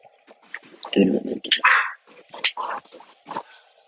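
An indoor dog being let in yips and whimpers excitedly in short bursts while a person talks over it nearby.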